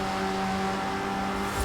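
A Triumph TR7 engine drones steadily in Forza Horizon 4 on the final lap of a race, a sustained close hum with a constant pitch and no talk over it.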